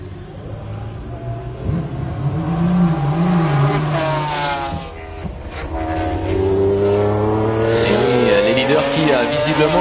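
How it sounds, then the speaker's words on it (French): Race cars at the 1995 Le Mans 24 Hours braking hard, engines dropping and rising in pitch with tyre squeal, loud and near under a commentator's voice. "Freinage très appuyé."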